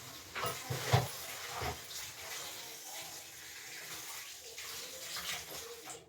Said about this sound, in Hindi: सबसे पहले इन सबको धो के हटाते हैं।